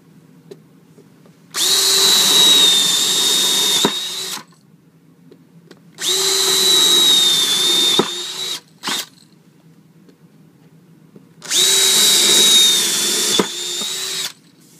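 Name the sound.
power drill drilling holes in table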